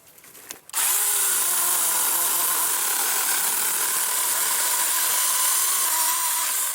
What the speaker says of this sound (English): while I'm running the chainsaw